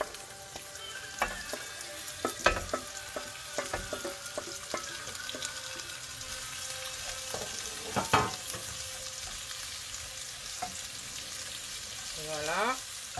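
Onions sizzle in a pan with beef and vegetables for a beef and vegetable sauté, a steady frying hiss broken by clanks and scrapes of stirring, close by.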